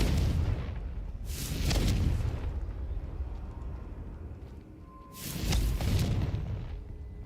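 Confringo blasting curse detonating in Hogwarts Legacy, two heavy booming explosions a few seconds apart, each a loud broadband burst that rumbles and decays, with a low roar lingering between them.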